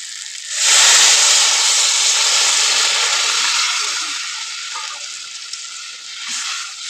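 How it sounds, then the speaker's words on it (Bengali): Water poured into masoor dal frying in a pan, bursting into a loud, steady hiss and sizzle that starts abruptly and slowly fades, with faint bubbling and a small rise again at the end. "তো এবার আমি দিয়ে দেবো এখানে পরিমাণ মতো জল"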